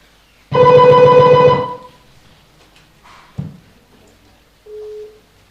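One loud electronic telephone ring tone sounds for about a second on a call-in hotline broadcast, followed by a click and a short quieter beep.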